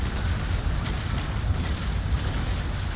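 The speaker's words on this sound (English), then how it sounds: "Let's fire our grape shots into him." Sailing-ship cannons firing grape shot in Naval Action rumble as a continuous low, booming roar, dense and heavy throughout with no distinct separate shots and no talk.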